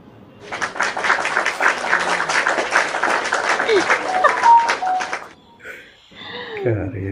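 A burst of lively clapping lasts about five seconds, then fades, followed by a brief voice and a knock-like thud.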